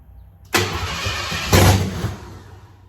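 A car engine cranks and catches at about half a second, then runs loud and steady with a surge partway through as the pedal is pressed, settling back toward a rough idle.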